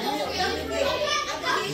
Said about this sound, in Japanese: うるさい子供たち。